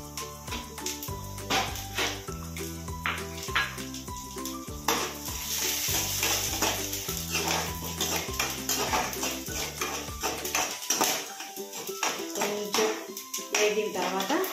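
Chana dal, urad dal and coriander seeds roasting in a pan, with crackling and spoon scrapes against the pan under steady background music.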